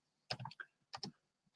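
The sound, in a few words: typing on a computer keyboard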